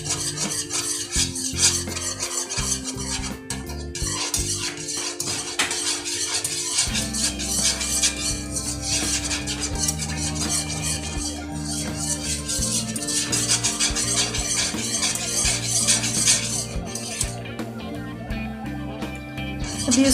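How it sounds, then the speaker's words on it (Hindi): Spoon stirring homemade condensed milk made with milk powder as it thickens in a pan, a steady scraping and swirling that runs continuously under a background music bed. "अभी 2 से 3 मिनट के लिए और चम्मच हिलाते जाएं इसमें"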